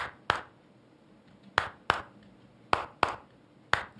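Six sharp video game claps at uneven intervals, each a crisp isolated smack with a short tail, over a quiet background.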